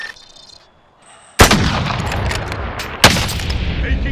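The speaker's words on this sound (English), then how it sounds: "Taking enemy fire." Gunfire in Call of Duty: Modern Warfare: two sharp, loud shots or bursts about a second and a half apart, each trailing into a long rumbling echo, after a quiet stretch of faint electronic tones.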